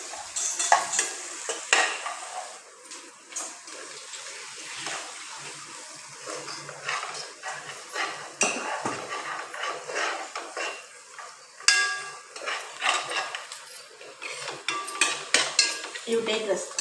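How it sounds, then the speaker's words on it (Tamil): Onions for mushroom biryani are stirred and sautéed in a pan, giving a soft sizzle broken by repeated scraping and clinking bursts of a spoon against metal, close by and uneven in rhythm. "லோ பண்ணி வச்சு வதக்கணும்"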